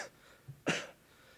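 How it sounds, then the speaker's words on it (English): A single short cough from a speaker at an AA conference, preceded by a faint throat sound, with quiet room tone before and after. "Just bear with me with the coughing."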